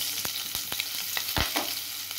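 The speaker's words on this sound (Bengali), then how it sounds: "ওই একই তেলে আমি দিয়ে দিচ্ছি জিরে, শুকনো লঙ্কা আর দুটো কাঁচা লঙ্কা ফোড়ন" Cumin, dried red chillies and two green chillies sizzling in hot oil left from frying prawns, a loud crackling hiss punctuated by several sharp spatula taps and scrapes in an irregular rhythm, close up with no talking.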